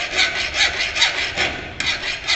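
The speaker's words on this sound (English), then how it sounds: "with help of filing, cross filing, you draw the chamfer" Hand file cross-filing a chamfer on the edge of a metal workpiece, close rhythmic rasping strokes about twice a second, each a scratchy swish, with no talk.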